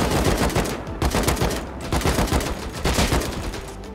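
Rapid bursts of automatic gunfire in the survival game Rust, loud and close, firing in dense repeated volleys with brief pauses between strings of shots.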